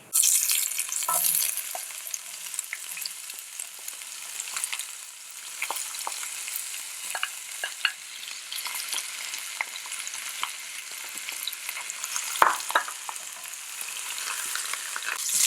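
Onions frying with cumin seeds and hot pepper in a pan, a steady bright sizzle running throughout with intermittent scraping and clinks of stirring, close and loud, with no talking.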